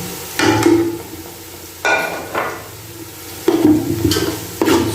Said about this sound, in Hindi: अच्छे तरीके से मिक्स कर लेते हैं ताकि हमारा मसाला जो है अच्छे तरीके से भून जाए।